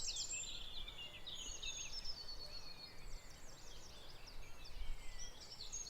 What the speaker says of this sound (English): there's a fantastic cacophony of birdsong